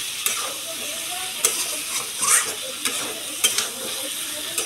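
Potatoes and tomatoes sizzle as they fry in a pan while a spoon stirs and scrapes them at intervals. The frying hiss is steady, with no talking over it.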